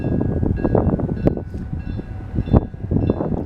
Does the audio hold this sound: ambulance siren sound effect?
no